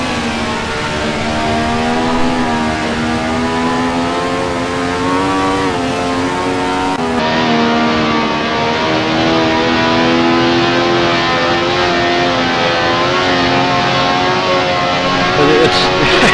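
A Ferrari 312T race car in a racing game, set on the Nordschleife, holds full throttle with a loud, sustained, high-pitched engine wail and slight pitch shifts as it climbs through gears.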